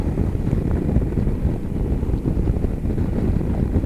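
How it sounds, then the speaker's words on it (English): Heavy wind roar buffets a motorcycle helmet visor while riding a Ducati Multistrada 1260 S on a January road, a loud continuous low rumble with gusty surges and no speech. "I have got an awful lot of wind noise coming out from this visor."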